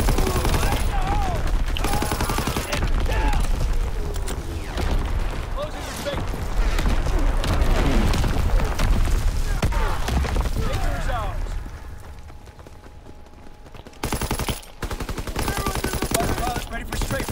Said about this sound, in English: Firing for full effect. Target zone locked.